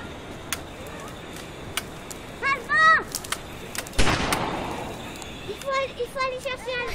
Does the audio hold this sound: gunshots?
yes